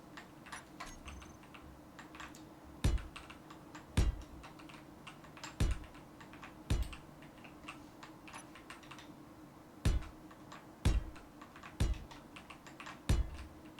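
An extremely loud computer keyboard clacks in scattered bursts, a dozen or so sharp, close keystrokes spaced irregularly over a quiet low hum, with no talking.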